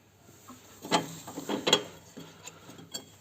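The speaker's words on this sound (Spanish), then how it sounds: "Son dos tuercas de 10, vamos a aflojarlas." A ratchet wrench works loose two 10 mm nuts on a support bracket of a Honda Civic 2.2 i-DTEC, giving short bursts of soft, uneven clicking and metallic scraping close by.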